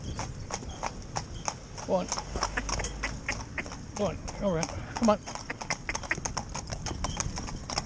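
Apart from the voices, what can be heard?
hooves of a pair of Gypsy Cob horses driven in tandem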